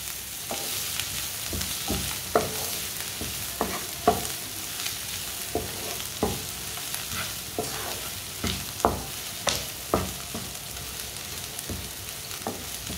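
Onions stirred and fried in a pan, a soft continuous sizzle punctuated by regular spoon strikes and scrapes against the pan, moderately quiet and close, with no talking.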